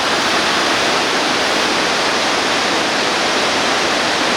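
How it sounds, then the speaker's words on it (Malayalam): A private waterfall at a Munnar resort pouring strongly after night rain, a loud, dense, unbroken roar of rushing water heard up close and constant throughout. "വെള്ളച്ചാട്ടത്തിൽ നല്ല സ്ട്രോങ് ആയിട്ട് വെള്ളം വരുന്നുണ്ട്"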